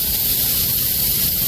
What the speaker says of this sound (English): if you hear that, that's the suspension dropping.